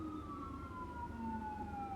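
An ambulance siren sounds in the distance, a steady sustained wail that slowly drifts downward in pitch, faint and continuous over low background rumble.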